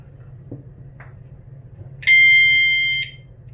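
A home fire alarm being tested gives a single loud, piercing electronic tone lasting about a second after a few faint taps and rustles in a quiet room.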